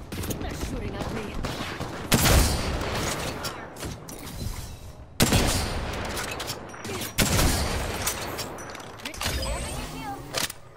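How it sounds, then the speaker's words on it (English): Repeated gunfire bursts in the Apex Legends battle royale game, sharp loud volleys recurring every couple of seconds over dense game ambience and movement noise, with a voice speaking intermittently. "They're shooting at me."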